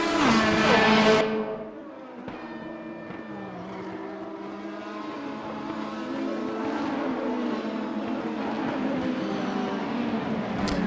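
A steady, droning engine roar from racing cars on track, Mercedes among them, held at a constant distance after a brief louder burst at the start, with no talk.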